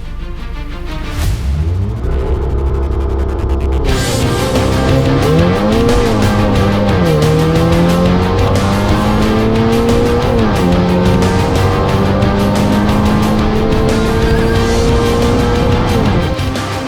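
A 600HP Audi TT making a quarter-mile drag run at the Buddh International Circuit in India, its engine loud and close, climbing through a series of rising pitch sweeps with each gear change, tire noise at the launch.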